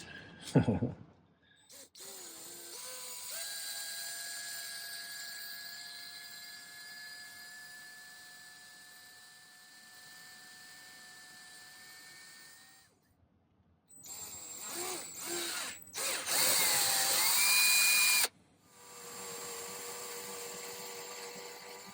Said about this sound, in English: If you just grind a little spot with a ball burr, it doesn't deform the metal.